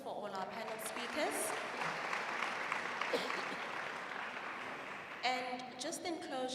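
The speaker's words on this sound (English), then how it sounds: "Can you please give a round of applause for all our panel speakers?" An audience applauds panel speakers at a youth environmental forum, a steady wash of clapping that swells, eases, then picks up again near the end, with voices mingling in.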